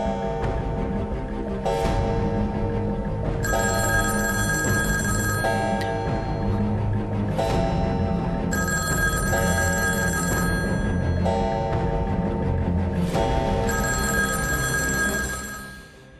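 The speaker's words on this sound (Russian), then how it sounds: "Постоянно раздаются таинственные телефонные звонки." A telephone bell rings repeatedly at night, loud bursts recurring every few seconds over a steady background of music, with no one speaking.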